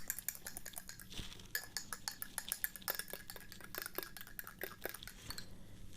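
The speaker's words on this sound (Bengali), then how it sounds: "একেবারে একাধারে 2 থেকে 3 মিনিট নাড়বেন" A teaspoon stirs a drink in a glass, giving light continuous clinks and scraping taps of metal on glass, quiet and close, with no talk.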